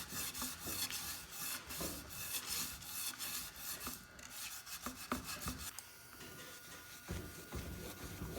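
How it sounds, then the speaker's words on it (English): Scotch-Brite pad scrubbing an old, crusty wheel rim, continuous quiet raspy rubbing with rapid back-and-forth strokes and a few sharper scrapes near the end. "I always try to do it with Scotch-Brite first and see if I can get it without that."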